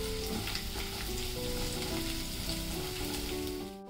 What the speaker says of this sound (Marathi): तेल गरम झालेलं आहे, त्याच्यामध्ये आलं आणि लसूण आहे ना ते चांगलं फ्राय करून घेते